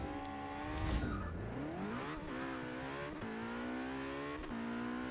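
A McLaren P1 in a Forza 6 mile drag race, its engine note revving high and climbing steadily through power shifts, loud and close, with brief dips between gears and no talk.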